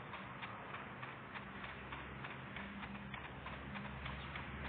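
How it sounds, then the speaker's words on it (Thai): Footsteps in a video game tread in a quick, even rhythm, thin and steady, with no voices over them. "เสียงเท้า"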